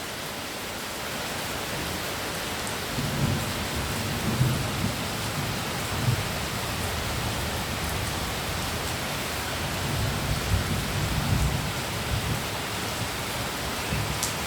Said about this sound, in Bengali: মেঘ ডাকছে, আরো বৃষ্টি হবে।